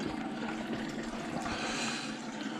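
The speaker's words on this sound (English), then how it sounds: "turn it counterclockwise if you're looking at it, and it'll piss out all your coolant" Coolant drains from the open drain valve of a 2017 Jeep Wrangler, a steady rushing, trickling stream of liquid that runs unbroken and close by with no voices.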